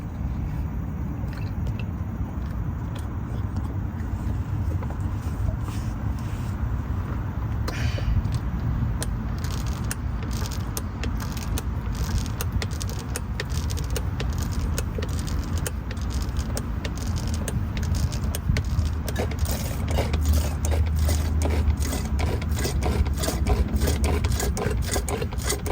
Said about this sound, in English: I'm just going to pump. You should start seeing the fluid go through the hose.